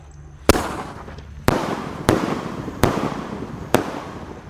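Roman candle and 100-shot missile fireworks go off in five sharp, loud launches spaced about a second apart, each followed by a fading crackle, with no talking.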